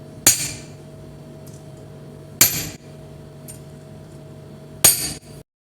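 Three sharp hammer taps on a wall plug driven into a wall, spaced about two seconds apart, each a crisp metallic knock ringing briefly against quiet room hum.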